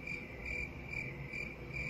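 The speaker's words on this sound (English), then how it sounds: "Cricket, oh, okay. Cricket." Steady cricket chirping pulses on without a break, moderately loud and close, with no voices and only a faint low background hum beneath it.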